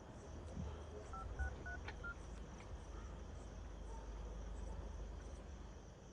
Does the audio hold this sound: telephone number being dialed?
yes